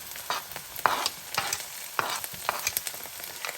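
Onions and peppers sizzling in a hot pan for Cajun shrimp and rice eggrolls, a close steady crackle with scattered spatters and stirring clicks, no voices.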